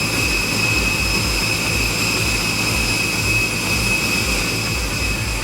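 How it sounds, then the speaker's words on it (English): MQ-25 unmanned aircraft on a carrier flight deck during catapult launch, a loud, steady jet engine roar with high whine held throughout, close and continuous. "Catapult fired. Aircraft in flight."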